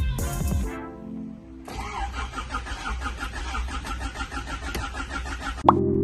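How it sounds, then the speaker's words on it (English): A Honda Prelude engine, third generation, cranks over during a rebuild with a plug unplugged, the starter churning in a fast, even rhythm for several seconds before it cuts off abruptly with a clunk. "Crank the engine to create oil pressure."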